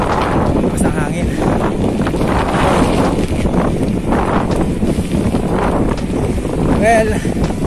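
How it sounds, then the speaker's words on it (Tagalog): Strong wind buffeting the microphone on a mountain bike trail ride, gusty roaring bursts rising and falling, with faint speech under it. "Basta ang hangin."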